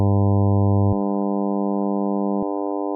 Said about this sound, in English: we have a fundamental sine wave of 100 Hz, with its natural overtones up to a kHz added